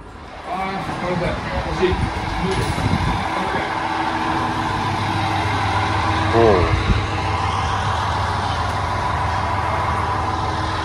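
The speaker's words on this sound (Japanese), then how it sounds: "いいですね、希望者のこのエンジン音。" An Isumi Railway train engine idles with a steady low diesel rumble that is close and continuous, and a person talks over it at times.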